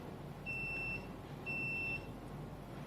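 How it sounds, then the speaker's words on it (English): Two steady electronic beeps from a smart home device during Wi-Fi setup, about a second apart, each lasting half a second, faint against a quiet background hiss. "Right, so we get the 2 beeps."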